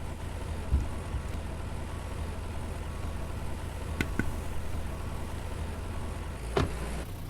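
Tractor engine idling in the farming video game Farmer's Dynasty, a steady low rumble throughout with a couple of brief clicks and thumps near the end.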